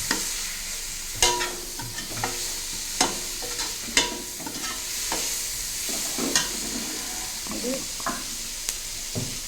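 Masala with coriander powder sautés in a pan, a soft steady sizzle with repeated spoon scrapes and knocks against the metal at irregular intervals, close by.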